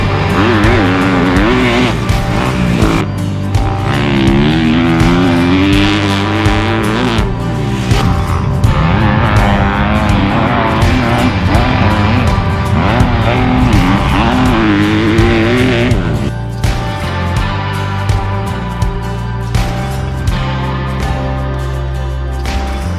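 A 2021 Kawasaki KX250X dirt bike being ridden, its engine revving loudly and steadily with rising and falling pitch as it accelerates and shifts, close and continuous with no talk.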